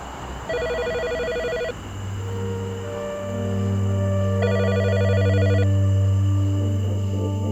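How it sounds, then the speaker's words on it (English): A landline telephone rings in two separate bursts of electronic trilling, spaced a few seconds apart, over low sustained musical tones that swell toward the end. "landline rang"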